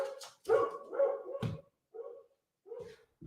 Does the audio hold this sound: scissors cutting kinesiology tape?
no